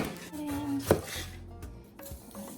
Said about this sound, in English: Then I'm going to slice my onion.